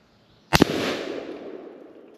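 A Tannerite charge detonates under a mini fridge at an outdoor shooting setup: one sharp, loud blast with a crack, then a long rumbling decay fading over about a second and a half.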